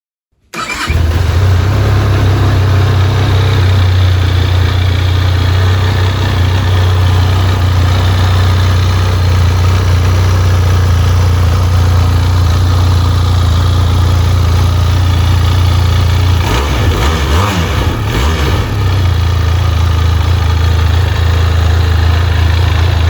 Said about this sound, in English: I'll just start the bike up so you can hear it,